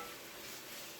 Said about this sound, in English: sizzle going on here